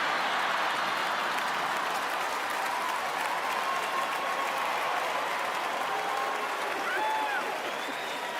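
A large comedy-show audience claps and applauds in a dense, sustained wash of applause that holds steady and loud throughout, with faint cheers mixed in.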